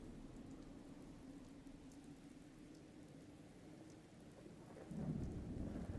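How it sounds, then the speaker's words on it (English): Night rain in the settlement-building game Murkwater, a steady soft downpour with a low rumbling thunder undertone that swells louder near the end, with no voices. "It's nighttime and raining again."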